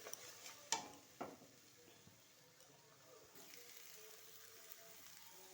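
Onion paste frying in a pan gives a faint, steady sizzle, with a couple of sharp clicks and ticks near the start, then a soft continuous hiss.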